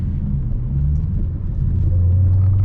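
A 700-horsepower manual Dodge Challenger Hellcat accelerating, a deep, loud, steady engine rumble from inside the car, with the low drone shifting in pitch partway through as the revs change.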